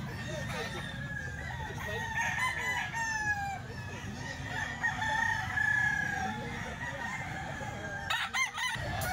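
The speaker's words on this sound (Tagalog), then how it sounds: "manok ni Boss Hapon dito sa grotto mga bossing." Roosters crow repeatedly amid background clucking and chatter, some calls near, others farther off.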